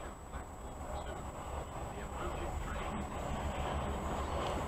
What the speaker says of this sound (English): I think there's two trains coming.